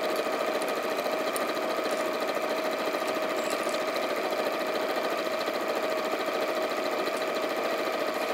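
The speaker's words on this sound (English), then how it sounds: "So just add a little chain stitch and feed the next pocket on, keeping that 1/4-inch seam allowance." A sewing machine runs continuously while chain stitching a pocket onto a fabric caddy, a steady close whir with a fine rapid needle rattle and no pauses.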